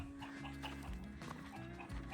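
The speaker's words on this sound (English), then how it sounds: "loud chickens today" Chickens clucking nearby in a farmyard, a steady run of overlapping clucks and squawks over a low background hum, with no talking.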